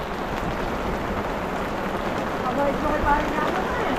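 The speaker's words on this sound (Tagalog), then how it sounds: "Andyan na yung bagyo mga katraps." Steady storm rain pours down on surfaces, a dense constant patter that swells slightly near the end.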